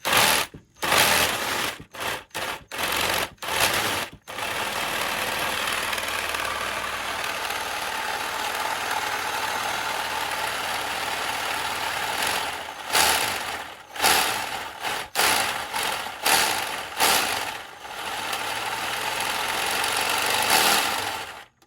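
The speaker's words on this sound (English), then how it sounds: "This thing sounds like a real engine" A small toy engine with cylinders runs steadily with a buzzy mechanical drone, cutting in and out in choppy bursts at the start and again near the end.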